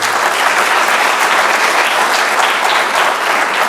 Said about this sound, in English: If we can give all of our panelists a round of applause, please